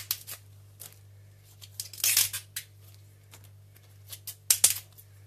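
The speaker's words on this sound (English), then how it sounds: "when it stops making that noise, I can tell that the artichoke leaves are getting more tender" Quiet crisp snapping and tearing as tough outer leaves are pulled off baby artichokes, in irregular bursts over a low steady hum, with no talking.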